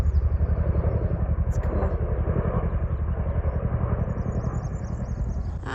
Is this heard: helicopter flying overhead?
yes